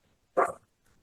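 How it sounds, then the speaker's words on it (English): A dog that has just woken gives a single short bark in the background of a quiet indoor space, fairly close and alone, followed by faint stirring. "My dog has just woken."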